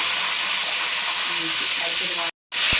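Fish curry frying in a pan as green chillies go in, a steady broadband sizzle and hiss close up that holds almost unbroken, drops out briefly near the end, then resumes.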